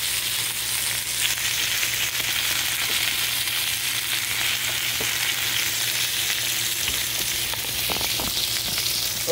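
A stuffed bacon cheese burger sizzles and fries in a pan with steady, close crackling, and a few faint scrapes of stirring or handling sound over it, with no talking.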